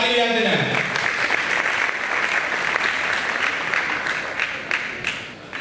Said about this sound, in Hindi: सब लोग ताली बजा देना है।